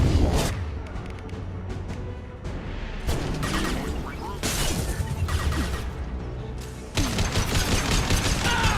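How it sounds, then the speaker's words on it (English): Combat in Mass Effect 2 with flashbang grenades and gunfire: repeated bursts of rapid gunshots and booming blasts come in waves, with short lulls between them, mixed with voices speaking during the fight. "Watch out, flashbangs!"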